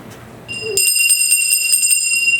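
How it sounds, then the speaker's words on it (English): Small hand bell rung on a theatre stage, a bright sustained jingling that starts abruptly after a brief low murmur and rings on steadily, close and fairly loud. "They don't hear, and my bell doesn't make enough noise."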